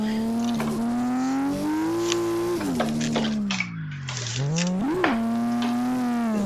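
Simulated Toyota Altezza engine (Swarm V3 car) from the racing game Assetto Corsa, droning loud and close at high revs near the limiter, sagging through a shift-like dip midway, then surging briefly and holding steady again, with no talking.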